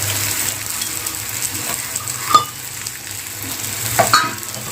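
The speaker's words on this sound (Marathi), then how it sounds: "आता चांगलं असं मिक्स करून घेऊया ते मसाले जे आहे ते तेलामध्ये चांगले असे फ्राय करूया" Cumin powder and garam masala stirred into hot oil in a pan for a spicy potato dish, a steady soft sizzle with scraping spoon strokes and two sharper clinks near the middle and end.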